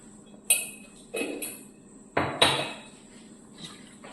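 Metal utensil clanks and scrapes in a pan while sardines are mixed with turmeric powder, several sharp, separated knocks and clinks at close range in a quiet kitchen.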